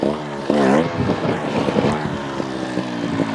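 A GasGas TXT 300 trials motorcycle engine revs up close in a backyard obstacle course, rising sharply and then holding a rough, buzzing drone with wind noise across the mic.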